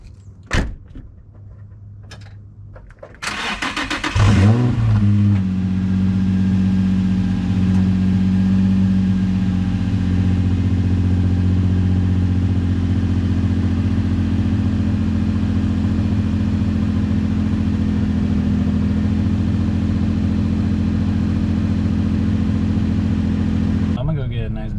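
A door clunks shut, then a Nissan Z's engine cranks and catches with a rising roar before settling into a steady, close idle drone that holds for about twenty seconds.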